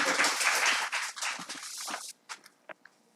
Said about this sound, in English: May I have your applause